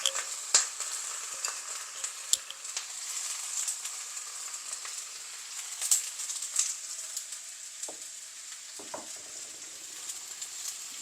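Shredded cabbage sizzles and crackles as it fries in a pan, with scattered scraping stirs and soft patter, steady and moderately faint throughout.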